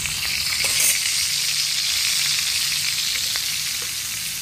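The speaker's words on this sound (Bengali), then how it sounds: "ইলিশ মাছের মাথাটা ভেজে নেব," A hilsa fish head fries in mustard oil in a wok, giving a loud, steady sizzle with crackling throughout and faint stirring sounds, no voices.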